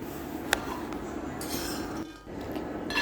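Freshly roasted peanuts are moved out of a hot pan, with one sharp clink followed by a continuous light rattling clatter that dips briefly and then resumes.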